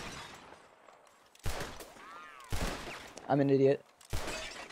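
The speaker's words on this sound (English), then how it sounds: "Whoever shoots more of these bottles wins." Revolver shots ring out in Red Dead Redemption 2 as glass bottles are shot and shatter, several sharp separate blasts spaced a second or so apart, with someone talking between them.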